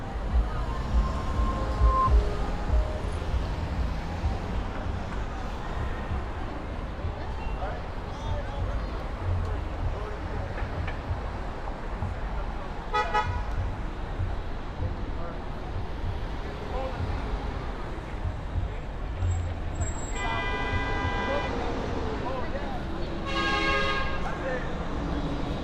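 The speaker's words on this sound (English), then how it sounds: "I didn't know if that garbage truck was going to stop." Busy New York City street with a garbage truck among the traffic: a steady, fairly loud roadway rumble throughout, with a couple of short horn toots in the middle and a longer horn blast near the end.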